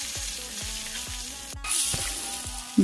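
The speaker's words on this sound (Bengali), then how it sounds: "ঘিয়ের মধ্যে তেজপাতা, দারচিনি, এলাচ দিয়ে তার মধ্যে আলু দিয়ে নাড়াচাড়া করলাম।" Potatoes stirred in hot ghee with bay leaf, cinnamon and cardamom make a steady close sizzle, with a regular scraping stroke of the spoon about twice a second.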